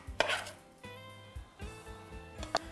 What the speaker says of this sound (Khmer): នាងខ្ញុំហាន់ខ្ទឹមក្រហម